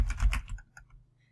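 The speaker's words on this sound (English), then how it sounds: "it already knows I'm typing this" A few quick keystrokes tap on a computer keyboard, a short cluster of soft clicks followed by two or three isolated taps, close and quiet.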